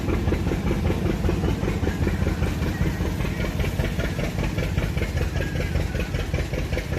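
A Farmall 230 tractor engine idles nearby with a steady, fast chugging knock that continues without a break.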